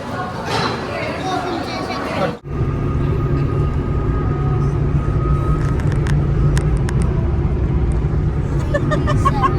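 A car cruising on the Yamuna Expressway between Agra and Noida, a steady loud road and engine rumble with wind noise inside the cabin and one brief dip partway through, while people chatter faintly in the background.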